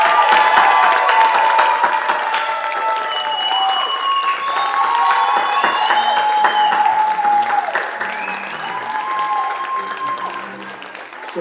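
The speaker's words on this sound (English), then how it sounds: "Give a round of applause." Sustained applause and cheering from a large commencement crowd honouring the Niles North class of 2023 graduates, loud and dense throughout, easing slightly toward the end, with whistles and shouts mixed in.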